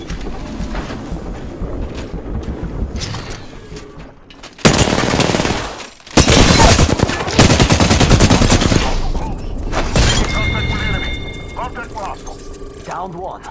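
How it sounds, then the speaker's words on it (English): Airstrike blasts and gunfire in a battle royale shooter game: loud broadband explosions crash in repeated bursts over continuous rattling gunfire, with speech throughout. "Watch an airstrike."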